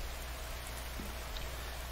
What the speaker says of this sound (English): We have some rain falling.